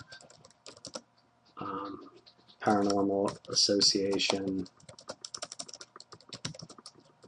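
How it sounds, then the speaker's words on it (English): Rapid clicking of keys on a computer keyboard while a post is typed into a WordPress editor, coming in uneven bursts of taps close by, with a person talking over parts of it. "And I'm just typing nonsense here."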